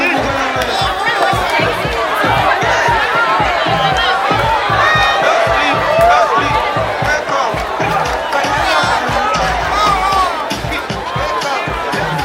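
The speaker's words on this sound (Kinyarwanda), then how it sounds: "amashyi kuri Mayira" A large wedding crowd in Musanze, northern Rwanda, claps and cheers for the mayor, a dense continuous roar of hands and voices filling the space, loud and sustained throughout.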